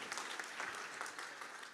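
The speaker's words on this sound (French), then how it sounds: "Oui, on peut l'applaudir, bien sûr." An audience at an awards ceremony claps in a steady, dense burst of applause with no voices over it.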